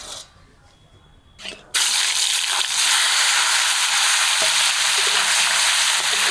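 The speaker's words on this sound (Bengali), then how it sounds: "তেলও গরম হয়ে গেছে, এবার মাছগুলো ভেজে নেব" Baim fish dropped into hot mustard oil in a wok. After a quiet start, a sudden loud, continuous sizzle bursts up and keeps crackling steadily to the end.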